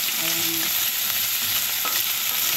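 Pork sizzles in a hot pan for adobo with a loud, steady frying hiss that carries on throughout, broken by a few faint scraping stirs.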